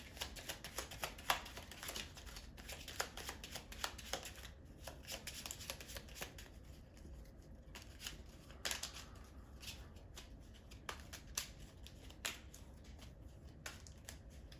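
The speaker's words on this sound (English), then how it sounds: "I'm gonna shuffle quick." Rapid riffling and flicking of playing cards, a series of crisp fluttering bursts repeating over and over with short pauses between.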